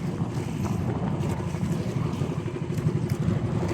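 Heavy wind roar and crashing waves surround a large bangka outrigger boat pitching at sea, a dense, constant low rumble with no voices.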